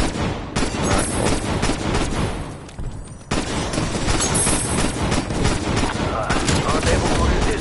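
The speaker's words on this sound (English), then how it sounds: "All right, start shooting crystals now." Continuous rapid gunfire from Call of Duty Cold War Zombies, in Outbreak mode, as players shoot crystals: loud, dense bursts that dip briefly in the middle before resuming unbroken to the end.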